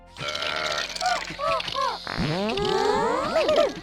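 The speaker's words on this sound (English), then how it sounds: "the new consumable sprays apply with burp and fart sound effects" A comical burp effect from the video game Pikmin 2, with short gurgling, voice-like croaks followed by a longer, warbling, belching rumble, loud and close with no talk.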